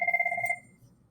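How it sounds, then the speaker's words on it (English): A phone rings with an incoming call, a short electronic two-tone trill lasting about half a second before cutting off, heard alone and fairly clear. "Getting a phone call, which I'm ignoring so I can make this video."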